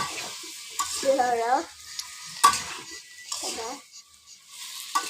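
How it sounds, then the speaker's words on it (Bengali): Pumpkin and spices sizzle and fry in a pan, with repeated scraping stirs of a spoon against the metal and a voice speaking between strokes. "এবার মিষ্টি কুমড়া আর মশলা ভালো করে কষিয়ে নেব"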